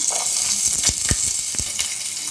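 Peanuts, ginger and about ten garlic cloves fry in a pan, giving a steady, dense sizzle with a few soft clicks and pops as the pieces are stirred.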